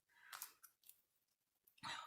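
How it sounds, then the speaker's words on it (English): Large scissors snip through a tissue paper sticker, a few quiet, close crisp cuts with short pauses between them and a louder snip at the end. "If I use the bigger scissors, see if I can cut it off."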